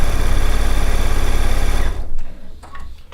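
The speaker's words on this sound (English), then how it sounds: "So I would never do this step I'm doing now, the top stitching, on the serger." Sewing machine top stitching, a loud close buzzing whir for about two seconds that stops abruptly, followed by faint handling noises.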